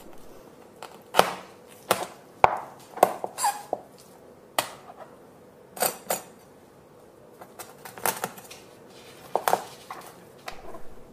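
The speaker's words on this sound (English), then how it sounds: "You can cut this into smaller pieces by cutting between the discs." A knife cuts a salmon backbone into smaller pieces between the vertebral discs, giving a dozen or so sharp, close clicks and chops against a board, spaced irregularly with quiet gaps between them.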